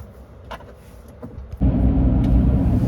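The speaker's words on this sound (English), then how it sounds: "we're cruising down the interstate, heading to Murfreesboro" A Chevrolet Silverado EV electric pickup on the interstate, its cabin quiet at first before a loud, steady road rumble swells in and holds, with no talking.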